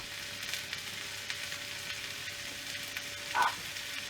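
Chicken frying in a pan with garlic powder, a steady close sizzle running throughout with a brief clink near the end.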